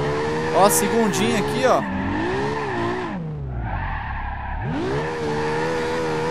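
A Toyota Supra drifting in BeamNG.Drive, engine revving high and wavering while the tires squeal and drop away into a low rumble, then the engine surges again, with someone talking over it.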